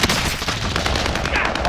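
Rapid gunfire in a video game striking the player, a dense, continuous burst of loud close shots crackling without pause across the whole moment.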